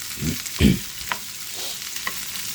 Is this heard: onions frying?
yes